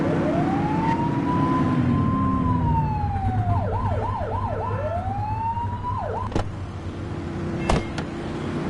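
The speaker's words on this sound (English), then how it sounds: "Get behind them and flip the siren and make them pull over." A police car siren in a police video game rises into a long wail, switches to rapid yelping cycles, then wails again, loud and close over engine rumble, ending with a couple of sharp clunks.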